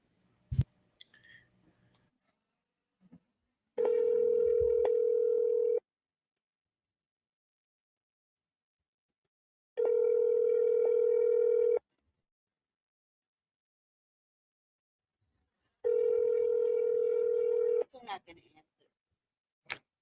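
Ringback tone of an outgoing phone call ringing on the line, three long steady buzzing rings separated by silences, clear and fairly loud, with faint shuffling noises before and after.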